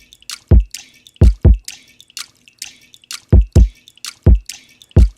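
Water drip sample reshaped into a kick drum with distortion and EQ, repeating as punchy low thumps with bright drippy tops in an uneven beat pattern, loud and alone.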